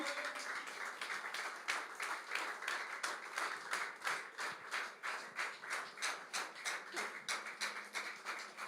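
A church congregation at a Tuesday worship service applauding to welcome a speaker, steady rhythmic clapping from many hands, fairly distant and moderate in level, continuing evenly throughout.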